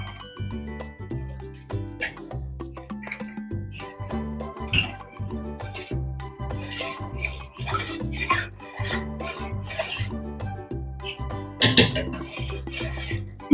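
A condensed-milk mixture for kharvas, a milk pudding, is stirred in a bowl, giving steady scraping and rubbing with light clinks against the dish, continuous and close over a background of tonal music.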